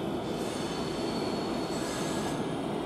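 An Intercity train, a double-headed pair of electric locomotives including a class 101, pulls into a German station, a steady loud rumble of rolling wheels with a high metallic squeal running through the whole stretch.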